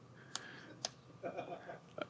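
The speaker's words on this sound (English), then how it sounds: "This is a real test to my one-handed typing." Typing with one hand on a computer keyboard produces a few sparse, sharp clicks with quiet gaps between them, faint against room tone, while someone talks softly.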